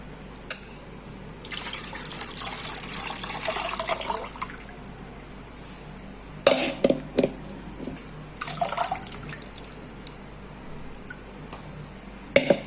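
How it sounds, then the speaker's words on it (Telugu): Homemade butter is washed with water in a vessel, with several bursts of splashing and swishing between quieter stretches, close and moderately loud. "ఇలా రెండు మూడు సార్లు వాటర్ పోసుకొని కడుక్కోవాలి"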